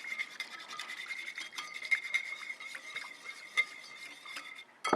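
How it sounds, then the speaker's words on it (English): Olive oil being whisked into a slaw dressing of seeds, salt and pepper in a bowl, giving a steady, busy scraping and stirring rasp that runs throughout, close and moderately loud with no talking. "we're gonna whisk in about 3 tablespoons of EVOO"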